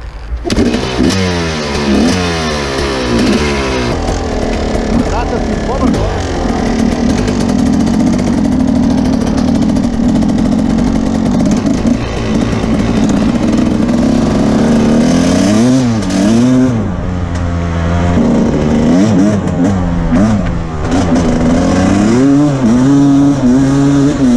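A loud 1993 Husqvarna 360cc two-stroke motorcycle engine revs hard and continuously, pitch rising and falling through repeated throttle blips, close up with no talking.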